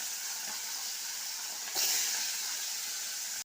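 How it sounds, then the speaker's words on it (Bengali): Hilsa fish frying in mustard oil, a steady bright hiss of sizzling oil throughout, with a brief louder spitting burst about halfway through. "সর্ষের তেলে রান্না করছি এটা।"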